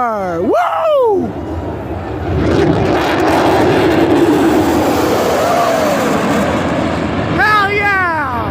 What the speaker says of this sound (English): There it goes. The F-22 Raptor.